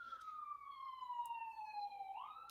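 Ambulance siren passing outside, faint and distant, one long wailing tone sliding slowly downward and then rising again.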